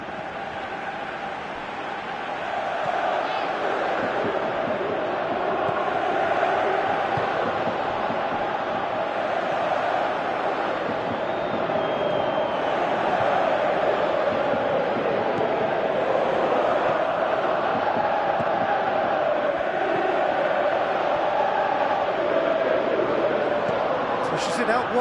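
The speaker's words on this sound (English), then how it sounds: "you can hear how the crowd are reacting to this too" Stadium crowd noise in a PS4 video game football match, a dense continuous roar that swells and holds steady for the whole stretch with no clear breaks.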